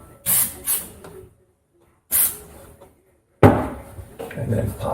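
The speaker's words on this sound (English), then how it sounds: "Spray the activator on the other side." Short bursts of glue activator sprayed from a can onto crown molding, three separate hissing puffs with quiet gaps between them, the last one longer and louder with some handling noise.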